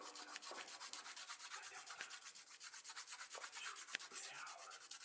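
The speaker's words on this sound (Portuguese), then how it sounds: "Então, eu vou lixar o meu macaquinho." Steady rhythmic scratching of sandpaper rubbed back and forth over a small craft monkey figure, close and continuous with repeated short strokes.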